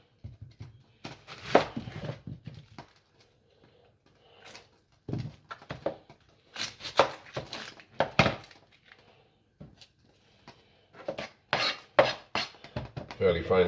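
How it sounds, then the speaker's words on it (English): Half an onion chopped fairly finely with a knife on a board, bursts of quick rhythmic cuts separated by short pauses, close and clear with nothing else over it. "Meanwhile, I'm going to chop half an onion."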